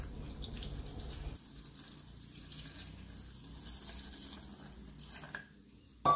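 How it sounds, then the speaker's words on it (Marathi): Water pours loudly from a tap over dried kokum to soak it for sol kadhi, then drops to a softer, steady trickle before stopping. "कोकम आता पाण्यात भिजत घालणार पहिली।"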